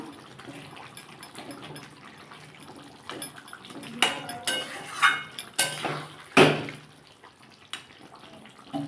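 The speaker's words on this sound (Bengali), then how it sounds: "আমি একটু গরম মশলা দিয়ে দেবো ওপর দিয়ে দিয়ে আলতে করে নাড়িয়ে দিলাম" A spoon stirs gently through a pot of rui fish curry with ridge gourd, eggplant and hog plum, giving soft clinks and scrapes against metal, quiet at first and then sharper knocks toward the end.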